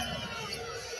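Basketball arena crowd in Las Vegas during a close third-quarter game against the Aces, a steady low roar of many voices murmuring and grumbling at a referee's call, sustained and fairly distant throughout.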